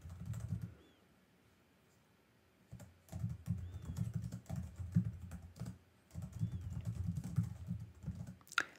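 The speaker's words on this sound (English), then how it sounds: "Let's type in Calatrava's name." A computer keyboard clicks under fast typing in close, dense bursts, with a quiet pause of about two seconds between the first short flurry and the longer runs that follow.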